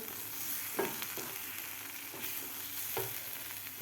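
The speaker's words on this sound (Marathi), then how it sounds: "मसाले घातल्यानंतर आपल्याला व्यवस्थित हे मिक्स करून घ्यायचं आहे" A spoon scrapes and stirs through a sizzling masala for paneer curry in a pan, with a few distinct scraping strokes over a steady frying hiss.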